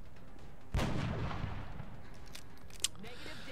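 A single sharp sniper rifle shot cracks out in the XCOM strategy game, followed by a decaying rumble and a brief metallic click a couple of seconds later.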